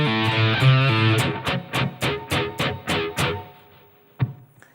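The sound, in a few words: distorted electric guitar riff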